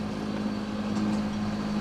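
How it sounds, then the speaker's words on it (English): A sailboat's engine runs steadily while motoring at sea during a Canary Islands crossing, a constant low droning hum with no breaks, heard alone. "Still got the engine on."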